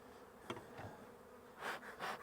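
Honeybees buzzing around an open hive during a spring inspection, faint, uneven buzzing that rises in a few brief swells as individual bees fly close.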